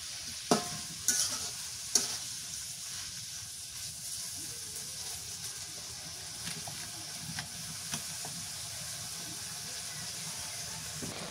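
Fish and plantain are sautéed and stirred in a pan, giving a faint, steady sizzle and hiss with a few clattering utensil knocks near the start and occasional soft scrapes.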